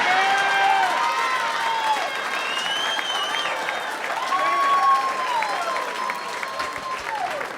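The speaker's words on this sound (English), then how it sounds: "They clap for that man for still being alive, Jason." A comedy club audience claps steadily and loudly throughout, with scattered whoops and voices rising over the applause.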